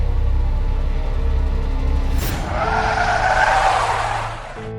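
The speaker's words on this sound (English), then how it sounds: "pressed the brakes hard." An animated car's engine hums, then tires screech in a long, loud skid as the vehicle brakes hard, fading out toward the end.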